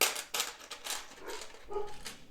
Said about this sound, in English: You can hear my dog barking because I guess he hears my voice and I'm in another room